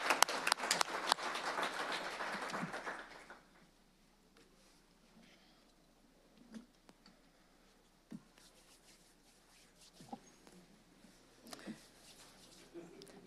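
An audience at a school board meeting gives a burst of applause for recognitions, loud dense clapping for about three seconds that fades out, followed by a quiet room with scattered thumps and shuffling.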